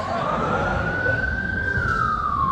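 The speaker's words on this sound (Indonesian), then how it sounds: "Bukan pakai ambulan, pakai sirine." A vehicle siren wails in one long, slowly rising and falling tone, loud and steady, over the continuous rumble of road traffic.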